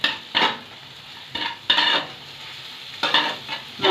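Egg curry masala with sugar stirred through it in a pan, heard as a few loud spoon scrapes in separate bursts over a soft steady sizzle, with no talking.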